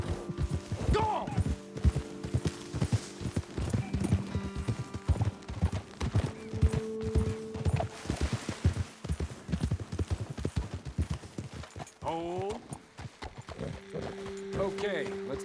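Horses' hooves clip-clop on a path in the Red Dead Redemption 2 game, a steady close rhythm of hoofbeats with a brief whinny near the end, under a voice.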